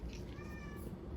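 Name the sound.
cat meowing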